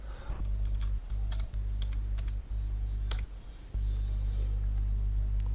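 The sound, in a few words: computer keyboard keys pressed, Shift plus Space shortcut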